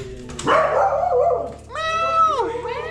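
People imitate dog barks with their voices, giving a few drawn-out, yelping woofs close by, one voice after another over a brief stretch.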